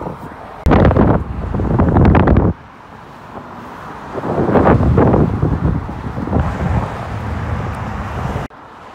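Strong gusts of wind buffet the microphone in loud rumbling bursts, easing and returning over several seconds.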